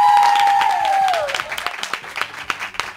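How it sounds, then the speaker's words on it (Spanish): A large studio audience of about 700 at a television show bursts into applause, a dense burst that thins into scattered individual claps as a voice trails off at the start. "Lo primero es que aplaudan."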